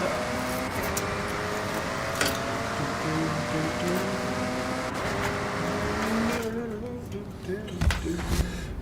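A race car in a video game drones steadily with a continuous engine whine, its pitch shifting as it drives, then the engine sound drops away into a quieter ending with a few bumps.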